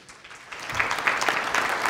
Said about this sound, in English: A round of applause for Taylor